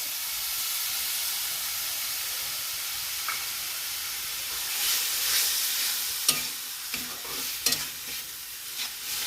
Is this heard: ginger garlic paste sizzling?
yes